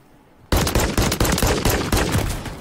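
Video game gunfire erupts suddenly after a quiet half second, a loud rapid string of automatic shots in short bursts, close and punchy, with no talking over it.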